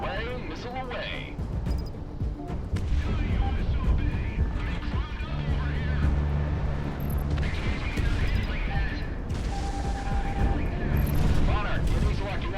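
Missile launches and bursts of gunfire in the aerial combat game Project Wingman, rumbling and whooshing loudly and continuously over engine drone and game music, with occasional short tones.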